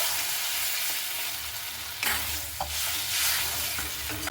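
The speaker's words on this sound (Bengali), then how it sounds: "জলটা দিয়ে একটু ভালো মতো করে আমি নাড়াচাড়া করে নেব" Stirring through egg curry masala in a pan after water is added, with a continuous bubbling sizzle and scraping strokes of a spoon, close and steady without any talk.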